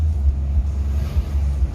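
A low, steady engine rumble fills the clip, the heavy drone of a large intercity bus driving along with no voices.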